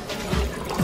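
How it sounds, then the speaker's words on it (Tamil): Drinks trickle and pour into glasses during a comedy scene; a brief, soft liquid splash over low room noise. "என்னடா நாலு பேர் இருக்கும், மூணு கிளாஸ் தான் ஊத்துற."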